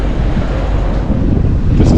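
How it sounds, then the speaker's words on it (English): Strong wind buffets the microphone outside the Melbourne Cricket Ground, a constant low roaring rumble with gusts that swell louder toward the end. "Windy."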